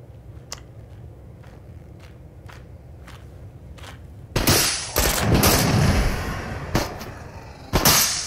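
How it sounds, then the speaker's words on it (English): Gunfire in the video game Into The Radius: sparse, faint distant shots tick at first, then loud close bursts of rapid firing break out, fading and flaring again, with no talking. "Someone else is shooting at me."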